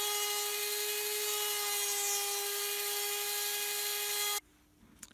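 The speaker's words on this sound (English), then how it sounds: "So I'll try to use a Dremel for this." Dremel cutting false gate grooves into a wooden combination lock, a loud, steady high-pitched whir that runs for about four seconds and then cuts off abruptly, leaving quiet room noise.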